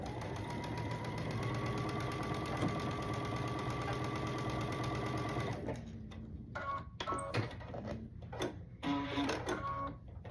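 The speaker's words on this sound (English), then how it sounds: "sew a 1/4 inch across this seam" A sewing machine stitches a quarter-inch seam across a quilt block, a steady close motor hum and rapid needle rhythm for about five seconds, then stopping and giving way to faint handling clicks and rustles.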